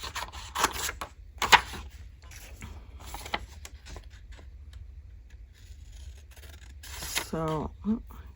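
Scissors fussy-cut around a paper shape for a crafted envelope pocket, with scattered close snips and rustling paper at irregular intervals, faint and intermittent, while someone talks quietly.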